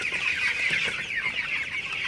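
Twenty-day-old broiler chickens on a poultry farm give off a dense, continuous chorus of clucking and chirping from many birds, fairly loud and with no talk over it.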